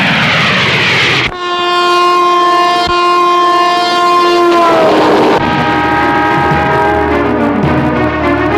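A train sounds a long, loud sustained horn as it passes close by, followed by a second horn blast over the rumble and clatter of the cars.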